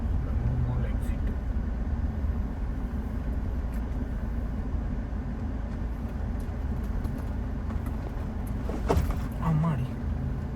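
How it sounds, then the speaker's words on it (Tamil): A Toyota Fortuner SUV rolls smoothly along a city road near a mall exit, its engine and tyre rumble a steady low drone, with a person talking over it throughout. "ஸ்மூத்தாக லாக்கோடு ஃபார்ச்சுனராக ஓட்டுறேன்"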